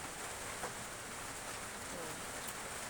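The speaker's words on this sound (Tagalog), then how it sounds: "Maulan-ulan ngayon." Rain falls steadily outdoors, a dense even hiss of drops on surfaces that holds at the same level throughout, with a faint voice in the background.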